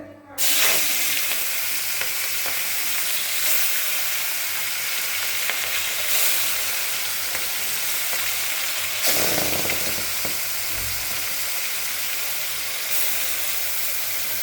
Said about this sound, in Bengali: মাছগুলো ভাজা হোক